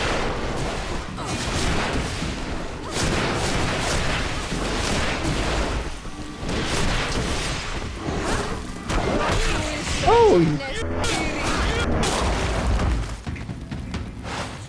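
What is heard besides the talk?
explosions from explosive potions in the video game Greedfall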